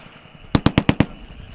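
Five rapid, sharp, evenly spaced reports in quick succession from a self-propelled howitzer such as the PzH 2000 or M109 Paladin, loud and close over a low rumbling background.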